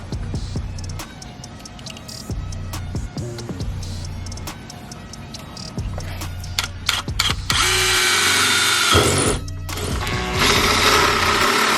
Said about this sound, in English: we can just drill from the bottom